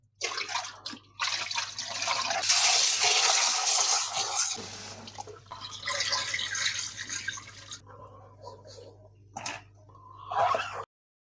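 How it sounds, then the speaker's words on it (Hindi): Fresh tap water runs and splashes over strawberries in a bowl, rinsing off vinegar and baking soda, a loud steady gush with pauses and dripping, with no talking. "आपने इसको फ्रेश पानी से धोना है, ताकि इसमें जो विनेगर और जो बेकिंग सोडा डाला था उसके कंटेंट्स निकल जाए।"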